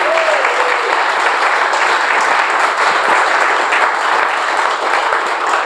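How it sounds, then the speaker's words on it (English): A comedy show audience in a civic theatre applauds in a steady, full wash of clapping that stays even and loud throughout, with a few faint voices mixed in. "Give them a round of applause again, guys."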